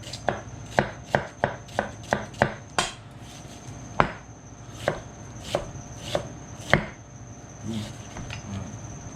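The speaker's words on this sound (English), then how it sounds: "So I'm gonna chop this onion up really fine." Onion chopped finely with a knife on a cutting board, a fast run of sharp, evenly spaced knife strikes followed by slower, more scattered chops, close and clear with no talking.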